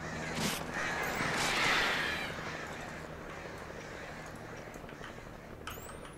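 Crows cawing in the video game Alan Wake, a few harsh caws near the start over a steady low ambient hum, then quieter background.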